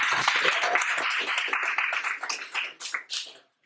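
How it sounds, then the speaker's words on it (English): A tech meetup audience gives a round of applause, close individual claps at first that thin out over a few seconds into scattered separate claps before stopping. "another round of applause for Evan and Jason."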